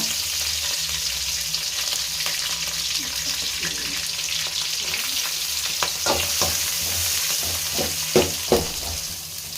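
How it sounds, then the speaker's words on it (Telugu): Onions frying in hot oil in a pan for vegetable fried rice, a steady broadband sizzle running throughout with a few sharper crackles and stirring clicks near the end, close and fairly loud. "ఇప్పుడు ఎర్రగడ్డ వేసుకుందాము"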